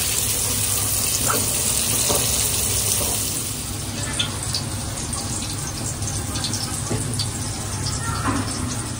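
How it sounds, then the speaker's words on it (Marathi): Bombay duck (bombil) fish fry in hot oil in a home kitchen, giving a steady broadband sizzle with a few brief clinks on top, loud and constant. "तर मी आता बोंबील तळायला घेतलेले आहेत."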